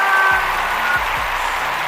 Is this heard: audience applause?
yes